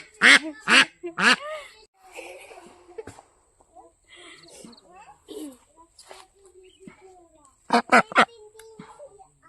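Domestic household ducks quack loudly in short nearby bursts at the start and again near the end, with softer scattered calls and some voices in between.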